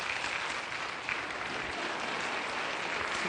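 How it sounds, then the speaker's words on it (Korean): A church congregation at a revival meeting claps together in dense, sustained applause that fills the whole stretch evenly, with no voices standing out. "이 귀한 신랑을 박수로 한번 축복해 주시기 바랍니다"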